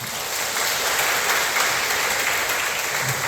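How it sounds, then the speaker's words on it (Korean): A church congregation applauds together to welcome a new member during a Sunday worship service, a steady, dense wash of clapping filling the room for the whole stretch. "우리 박수로 환영하겠습니다"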